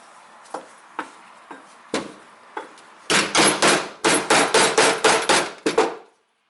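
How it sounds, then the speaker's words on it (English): Sharp metallic hammer blows on a vehicle registration plate light cover, a few spaced single strikes at first, then a rapid loud burst of repeated hammering before stopping. "I take my hammer next"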